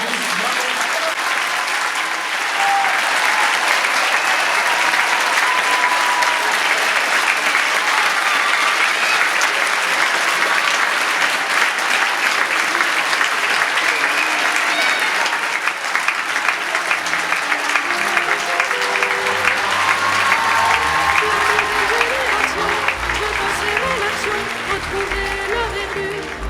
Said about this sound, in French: Eh bien, je crois qu'on peut encore les applaudir tous.